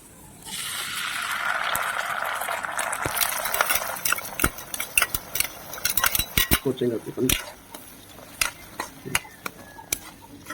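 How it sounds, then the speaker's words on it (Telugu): Tomato puree, made from two large blended tomatoes, fries in oil over browned onions in a pan; a loud sizzle fades as a spoon repeatedly clatters and scrapes against the vessel in quick irregular strokes, with no voices. "మంచిగా ఫ్రై చేసుకుందాం ఆయిల్లో"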